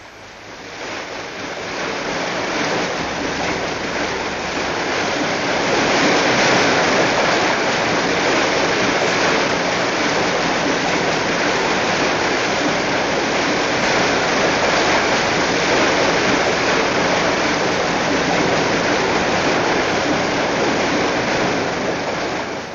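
Loud, steady rush of water pouring into a floating concrete caisson as valves open, swelling after the first few seconds and then roaring on without a break.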